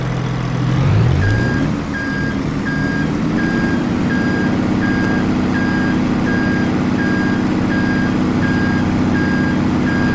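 Reversing truck in Farming Simulator 22 on PS5, a loud diesel engine revving up and settling into a steady drone while a high back-up alarm beeps at an even, regular pace throughout.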